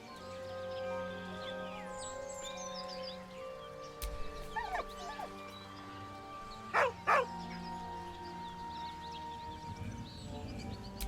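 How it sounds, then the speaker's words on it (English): A dog whining in Baldur's Gate 3, soft high whimpers followed by a couple of louder yelping whines over a quiet layered musical background. "With a deep, heartbroken whine, the dog bows his head."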